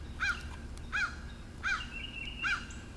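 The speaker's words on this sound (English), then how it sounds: "you hear that bird in the tree?" A bird calls from a tree, four evenly spaced harsh caws repeated roughly every three quarters of a second over a soft outdoor background hum, moderately distant.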